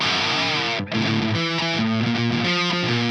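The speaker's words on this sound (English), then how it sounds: "kick on the distortion, slide up and down the neck and turn the Gonkulator off and play this" A distorted electric guitar slides up and down the neck, gritty sustained notes bending in pitch, one brief dropout near the start, played alone.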